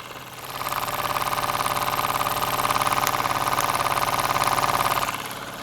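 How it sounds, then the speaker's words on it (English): A small unknown marine model steam engine runs quietly and smoothly, with a steady rapid rhythmic chuffing that is fairly loud and close and fades slightly at the end. "That little unknown Marine steam"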